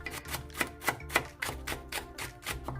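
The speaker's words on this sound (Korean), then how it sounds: "대파 3분의 2개를 잘게 썰어줍니다." A knife finely slicing two-thirds of a green onion on a cutting board, a steady run of close, crisp taps at an even quick rhythm, with no talk.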